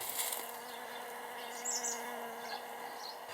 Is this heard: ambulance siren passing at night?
no